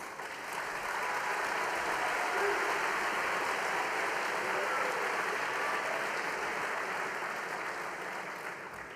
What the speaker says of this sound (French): nous pouvons t'applaudir pour cela